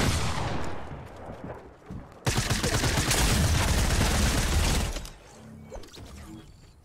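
Flintlock pirate pistol fire in a video game comes as a loud burst of rapid gunshots with mechanical clatter, cutting off abruptly, followed by quieter rattling handling noises.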